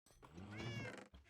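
Pet cat giving a single drawn-out meow, close and clear, rising then falling before ending abruptly.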